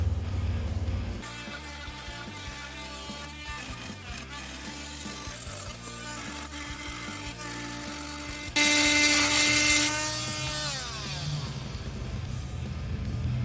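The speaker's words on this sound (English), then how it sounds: "This is a high strength oscillating multi-tool blade." High-strength oscillating multi-tool blade cutting hard material such as metal, concrete or screws, a buzzing, rasping tool whine with pulsing strokes, growing louder and harsher partway through before winding down.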